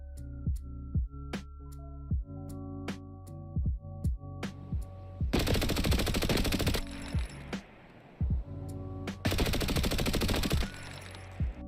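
Automatic rifle fire in the shooter game Escape from Tarkov: scattered sharp single shots, then two long, loud sustained bursts with a brief pause between them.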